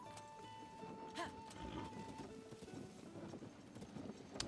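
A horse clip-clops in the Zelda: Tears of the Kingdom video game, with steady hoofbeats over a background music bed, low in level and without voices.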